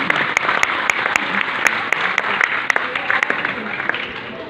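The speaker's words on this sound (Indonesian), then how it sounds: "Tepuk tangan teman-teman semua." Steady crowd applause at an Indonesian national youth forum, dense and continuous, with a few louder individual claps standing out above the mass.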